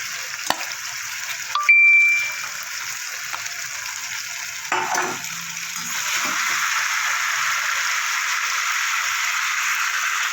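Taro and fish curry cooking in a pan as fried potatoes go in, a steady close sizzle of frying with a few clanks and stirring bumps near the start.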